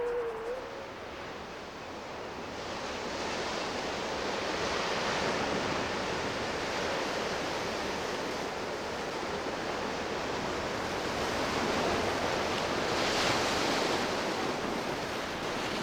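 Winter ocean surf breaking on the shore as the sun sets, a continuous broad roar of waves that swells and eases over several seconds, with some wind noise and no voices.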